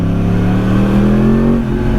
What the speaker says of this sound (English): let us enjoy the lovely sounds of the cross-plane crank R1.